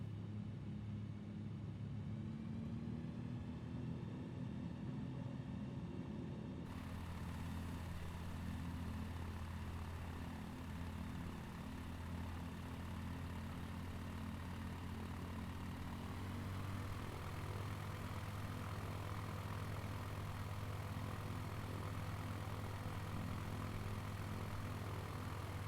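A Shock Ultra light aircraft's engine drones and rumbles steadily while taxiing through snow, its tone shifting as power changes, loud and close with no talk.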